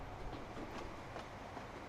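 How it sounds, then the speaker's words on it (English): A train in Transport Fever 2 rolls along the rails with a faint, steady clickety-clack of wheels over track joints, the rhythmic clatter repeating under a low rumble. "I want to ride out one of the new trains we put on up here"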